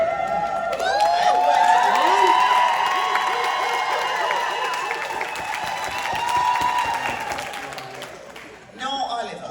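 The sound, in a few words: audience applause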